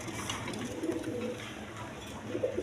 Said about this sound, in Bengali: দেখেন একদম সুস্থ সবল কবুতর